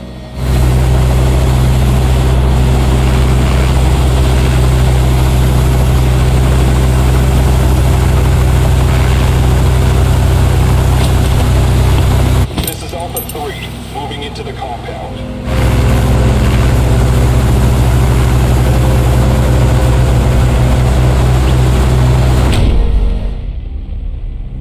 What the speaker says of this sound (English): Get inside the chopper